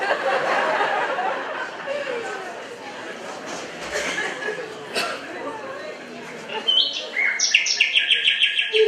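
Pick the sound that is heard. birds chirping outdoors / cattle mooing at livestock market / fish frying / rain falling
birds chirping outdoors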